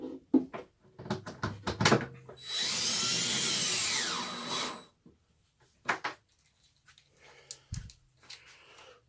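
A power drill or impact tool buzzes for about two seconds while tightening bolts on an LG washing machine drum, surrounded by clanks and knocks of metal parts being handled.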